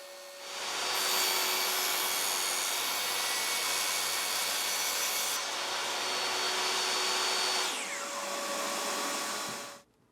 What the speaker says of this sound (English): I'll measure and cut the acrylic to fit the 4 spaces